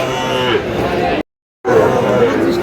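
Loud, close cattle mooing in drawn-out calls at a cattle market, Sahiwal bull calves among them, broken by a brief silent gap, with a murmur of people in the background.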